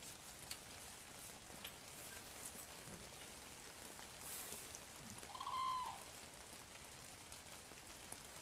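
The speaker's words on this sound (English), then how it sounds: "today it's raining" Steady rain falling outdoors on a wetland where red-crowned cranes gather, a soft continuous hiss throughout, with a brief faint bird call near the middle and no talk.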